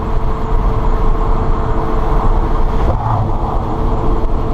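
An electric Porsche 912 conversion with a series-wound DC motor accelerates in a steady, loud rush of road and drivetrain noise that holds fairly constant from inside the car, without talking.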